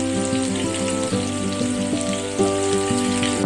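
Chopped onion frying with cinnamon, cloves and green cardamom in hot oil, a close steady sizzle and crackle beneath a sustained tonal musical background, with no talking.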